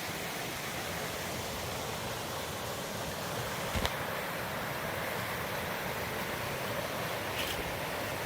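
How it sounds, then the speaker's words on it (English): The Wild Ammonoosuc river in New Hampshire rushes past in a steady, broadband roar, close and unbroken, with no voices over it. "Nice little river."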